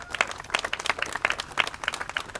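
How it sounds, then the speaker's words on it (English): Brief applause from a small outdoor audience at a house groundbreaking ceremony, with a burst of scattered, uneven hand claps at moderate distance and no talking over it. "Y'all give him a round of applause"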